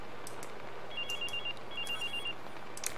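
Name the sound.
phone ringing in the video game Watch Dogs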